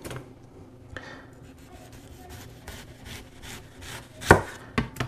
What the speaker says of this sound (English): I'm just gonna saw back and forth, making sure that I'm keeping my knife straight down